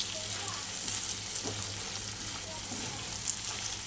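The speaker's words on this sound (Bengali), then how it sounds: "মাছের তেল ভাজা হচ্ছে।" Fish oil and eggplant fry in a pan, giving a steady close sizzle with faint stirring and bubbling pops throughout.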